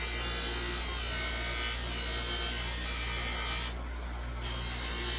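A tobacco pipe pressed against the lower part of a spinning buffing wheel, giving a steady, continuous whirring rub that stays close and even throughout, with no talking.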